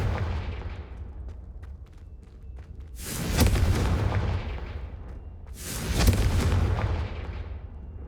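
Spell blasts from Hogwarts Legacy boom out in two heavy, explosive bursts, each followed by a rumbling decay, over low background game ambience with no talking.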